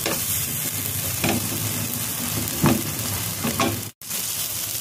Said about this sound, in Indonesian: Lalu diaduk-aduk.